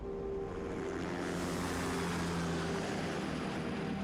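Helicopter arriving in GoldenEye: Rogue Agent, a steady loud broadband whoosh of rotor wash and engine drone with a sustained low tonal hum, continuous throughout with no talk.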